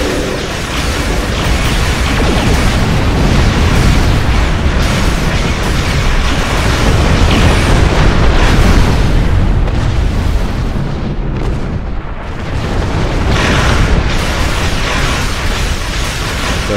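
Starship weapons fire and explosions in a Star Trek space battle game against a Negvar warship, a dense, continuous barrage of booming blasts and roaring rumble, loud throughout, with a brief dip before it surges again; no voices.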